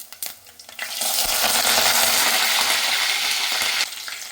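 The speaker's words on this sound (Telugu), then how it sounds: "ఇప్పుడైతే కరివేపాకు వేసుకుందాం." Curry leaves hit hot oil in a pan and burst into a loud, steady, crackling sizzle that holds for a few seconds before easing off.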